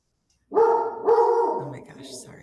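Dogs let out two loud, close barks in quick succession, the second longer and ringing out, followed by a lower whimpering trail in an otherwise quiet room.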